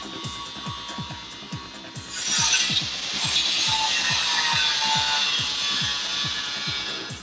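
Power tool cutting away part of the factory track bar bracket on a 2012 Dodge Ram 2500 during a lift install, a steady close grinding rasp that swells louder partway through, over a rapid repetitive mechanical ticking.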